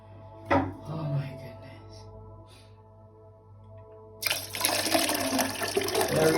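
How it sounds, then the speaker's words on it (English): Water poured into a container for a home chamomile tea enema, a steady rushing pour starting partway through and running continuously to the end, after a few thumps and quiet handling. "I'm gonna add the water to here now."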